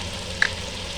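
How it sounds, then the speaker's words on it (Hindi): Potatoes fry in a pan with a steady, close sizzle, briefly punctuated by a light clink near the middle. "2 से 3 मिनट हो चुके हैं इसको हम फ्राई करते हुए"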